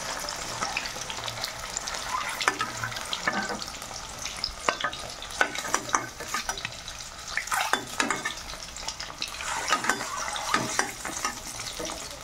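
Eggs fry in a pan, a continuous close sizzle broken by frequent scraping and stirring knocks of a utensil against the pan, with no talk.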